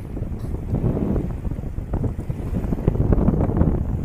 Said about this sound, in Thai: คลื่นทั้งคืนครับลมแรง ลมแรงมาก